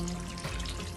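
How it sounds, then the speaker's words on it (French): Water streams steadily into a pot holding vegetable oil and couscous ingredients, a short close splashing pour with no voices. "Et je mets de l'eau."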